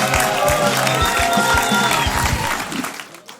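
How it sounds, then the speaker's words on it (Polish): A stand-up comedy crowd at a roast applauds and cheers loudly, a dense wash of clapping that fades out toward the end. "Wielkie brawa, Krzysiek Kasmarek!"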